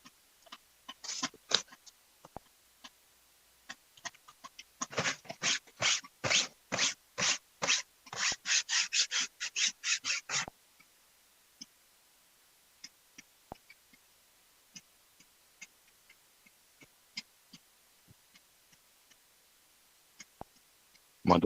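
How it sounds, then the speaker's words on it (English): A dog laps water from a bowl, a quick run of about a dozen rhythmic wet laps in the middle, with scattered softer licks and clicks before and after in a quiet room. "My dog's drinking water, if you're wondering what that sound is."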